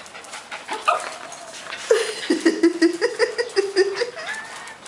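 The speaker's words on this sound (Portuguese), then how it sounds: "Um latindo pra outra." Two small dogs play-fight and bark at each other, with a quick run of sharp, rhythmic yips and barks close to the microphone after a few softer whines.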